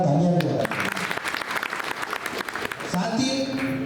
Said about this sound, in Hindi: बहुत बहुत इनके लिए जोरदार तालियां भी।